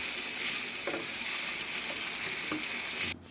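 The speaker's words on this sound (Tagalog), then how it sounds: "Gisa naman natin sibuyas, bawang." Onion, garlic and tanglad sautéing in a pan for a string bean and sponge gourd dish, a loud, constant close sizzle with a few faint scrapes of stirring, cut off abruptly near the end.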